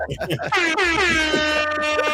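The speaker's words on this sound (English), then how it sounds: "Yo, air horn." A loud, sustained air horn blast with a bright stacked-tone sound, preceded by a quick burst of talk.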